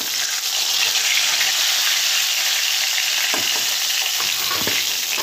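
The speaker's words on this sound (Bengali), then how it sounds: "মাছগুলো দু সাইড ভালো করে ভেজে নিলাম, আর মাছগুলো ভাজা হয়ে গেছে।" Tilapia pieces sizzle and crackle in hot oil in a pan, a loud continuous frying hiss with occasional spattering pops and no talking.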